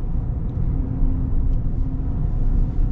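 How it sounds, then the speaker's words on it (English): Steady low engine rumble and road noise from a 2023 Chevrolet Silverado 1500 High Country V8 pickup pulling away from a stop, a continuous near drone with no speech. "getting up and moving. Good torque out of the V8"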